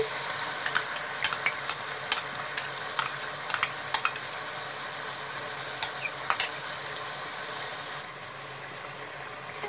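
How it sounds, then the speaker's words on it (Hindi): A spoon stirring yogurt through chicken pieces in a pot for chicken korma, giving a steady soft sizzle with a string of sharp metal scrapes and clinks against the pot, close and with no talking. "अब हम इस दही को भी चिकन के अंदर अच्छे से मिक्स कर लेंगे"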